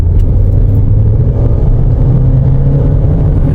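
A Mahindra XUV700 with a 149 kW engine under a full throttle press, giving a loud, steady engine drone and road rumble from inside the cabin without any speech.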